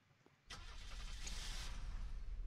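A car engine in the video game Unturned starts abruptly after a quiet moment, then keeps running as a steady, loud broadband roar.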